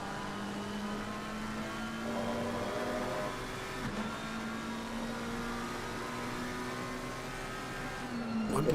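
A McLaren GT3 race car engine from ACC drones steadily at high revs, one close onboard tone holding with a brief gearshift dip, then climbing louder at the end, with no talk.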